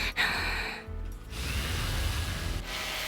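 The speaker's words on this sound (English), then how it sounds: "Oh, hammering." Metallic hammering in the video game NIKKE, a steady mechanical clatter under a low background hum that carries on for about three seconds.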